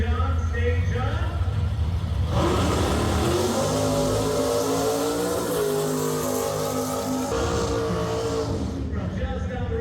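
A 1967 Pontiac Firebird drag car at a Pontiac drag racing event roars loudly, its engine revving and rising in pitch as it launches, with a track announcer talking over the noise throughout.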